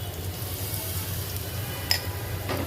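Banana fritters frying in very hot oil, a continuous close sizzle and bubbling with a couple of brief sharp clicks from handling in the pan.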